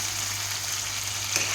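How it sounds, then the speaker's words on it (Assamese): Chicken pieces fry in a hot pan for an Assamese-style curry, giving a steady, even sizzle with no talk and only a faint stir partway through. "ইয়াত মই দি দিম মাংসখিনি, দি দিম।"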